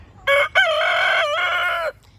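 A young Americana rooster crows once, loud and close: a short opening note, a brief break, then a long sustained cock-a-doodle-doo call that fades out.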